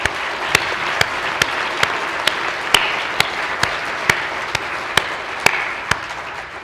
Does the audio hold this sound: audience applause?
yes